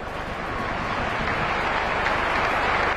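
Football stadium crowd at a Real Sociedad versus Real Betis match applauding an injured player, a dense, steady wash of distant clapping and crowd noise that holds throughout.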